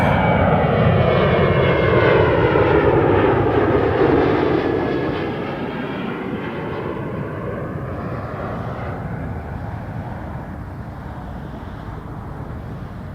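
An airliner at Toronto Pearson Airport lines up on the runway, its jet engines a loud broad roar with a shifting whine that eases to a steadier, quieter rumble halfway through.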